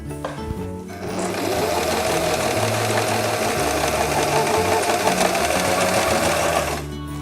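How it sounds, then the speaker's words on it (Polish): A sewing machine stitching a towel mane onto a towel dragon runs steadily and loudly for several seconds, a fast even mechanical whirr that starts and stops abruptly at each end. "Wsuwamy w maszynę naszą grzywę. I zaczynamy szycie."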